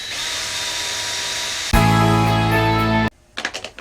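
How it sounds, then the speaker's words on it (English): A power drill whirs drilling pilot holes in oak pallet wood, jumps to a louder, higher-pitched spin for a second or so, then stops, followed by a few short clattering knocks. "I need to drill the little pilot holes"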